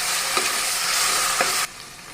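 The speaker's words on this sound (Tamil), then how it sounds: "இஞ்சி பூண்டு பேஸ்ட்டு பச்சை வாடை போகிற வரைக்கும் வதக்கணும்." Ginger garlic paste sautéing in a hot pan for egg biryani, a bright steady sizzle with two quick stirring scrapes before the sizzle drops off abruptly near the end.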